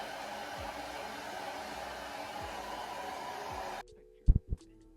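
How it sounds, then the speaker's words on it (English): A quiet blow dryer drying freshly retwisted locs gives a steady, soft whirring hum for most of the moment, then cuts off, leaving a few low thumps. "Going in with my favorite blow dryer. Y'all, listen to how this sounds."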